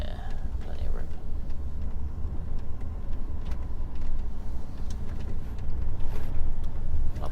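A truck's engine rumbles steadily and low at close range as the vehicle turns around in a parking area at night, with a continuous drone and no clear speech.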